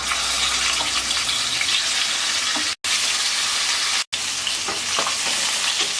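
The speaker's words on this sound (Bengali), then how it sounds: "তেল গরম হয়ে গেছে, মাছ দিয়ে দিচ্ছি" Pieces of rohu fish fry in hot oil in a kadai, giving a loud, steady sizzle and crackle with faint stirring scrapes. The sizzle continues unbroken apart from two brief silent cuts.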